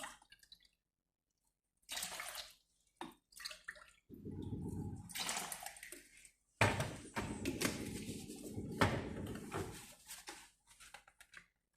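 Water poured from a container into cake mix in several bursts, splashing and gurgling close up, separated by short silent gaps.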